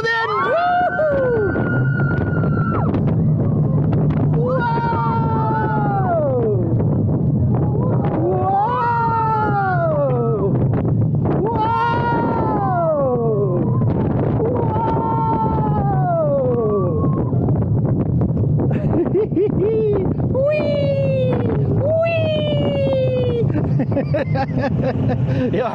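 Loud, continuous rumble and clatter from the back row of the Thirteen roller coaster at Alton Towers, with riders' rising and falling screams and whoops over the track noise throughout.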